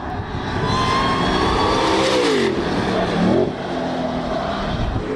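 A Ford Mustang GTD engine roars and revs on the Nürburgring, its pitch sweeping up and down as it passes at speed, loud and continuous.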